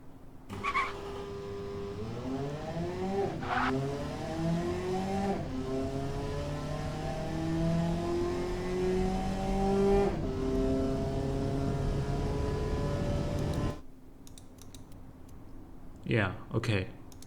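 A 1962 Flare Roadster in the driving game Automation revs up through several gears, engine pitch climbing and dropping with each shift, then cuts off abruptly near the end, followed by brief faint sounds.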